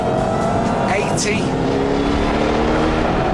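A supercharged 2007 Shelby GT500 engine roars loudly under hard acceleration through second gear, a continuous strained drone with a rising whine, heard from inside the car.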